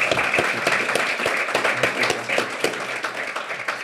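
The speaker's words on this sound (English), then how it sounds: "let's give him a round of applause again" An audience claps for a speaker at a talk on ending youth unemployment, a moderately loud, even patter of many hands that holds steady and thins slightly toward the end.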